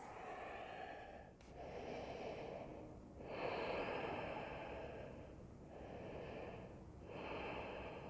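Slow, deep yoga breaths during a full-body stretch, with long airy inhales and exhales repeating steadily, close and soft, with no talking.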